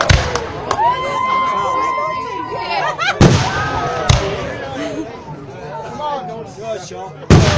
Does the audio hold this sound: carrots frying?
no